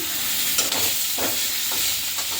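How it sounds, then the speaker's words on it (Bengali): Steady frying sizzle with a few scraping stirs through potato pieces in a pan previously used for frying fish, close and fairly loud, no talking. "আলুটা দিয়ে দিচ্ছি নাড়াচাড়া করে নেই মাছ ভাজা কড়াইতেই আমি এটা করছি"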